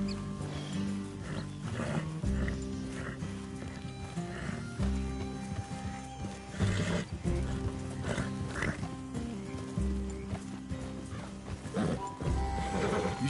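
Horses in the Red Dead Redemption 2 video game clip-clop steadily and let out whinnies amid a busy, layered game soundscape with low rumbling tones throughout.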